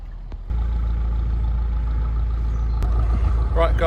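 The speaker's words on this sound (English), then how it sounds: "we're just cruising along nice and slowly, ticking along past these boats" A narrowboat engine chugs at a steady low throttle, cruising slowly past moored boats, a constant rumble close by, with a brief tone and some faint voices toward the end.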